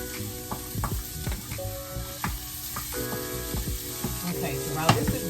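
Onions browning in a pan over medium heat, a steady close sizzle and crackle with occasional clinks and scraping of a utensil stirring, no talking.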